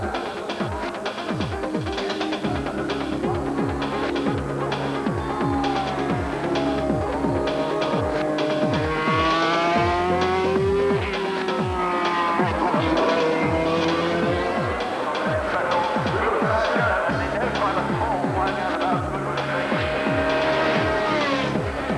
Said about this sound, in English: You know, for me, it's going to be fantastic to drive Ayrton's car.